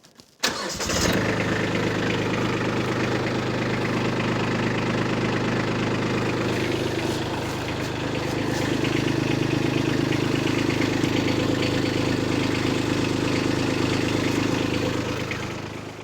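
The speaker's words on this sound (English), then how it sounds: "let's start the tractor and see if she leaks." Kubota B2601 compact tractor diesel engine cranks briefly, catches and settles into a steady, loud idle that rumbles on close by, with a slight rise in tone partway through.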